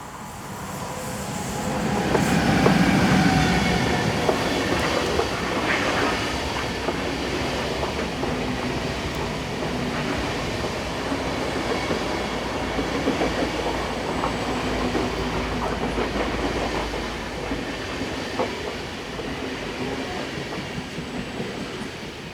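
A Class 460 electric locomotive arrives from Basel with a steady, loud rumble of rolling wheels and rhythmic rail clatter that runs for the whole stretch and eases slightly toward the end.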